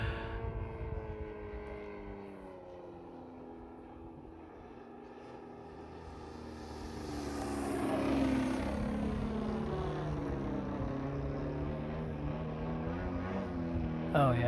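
Engine of an Extreme Flight 91-inch Extra 300 V2 giant-scale 3D RC plane held in a hover, a steady droning buzz with layered harmonics that swells louder partway through and holds, with no voices.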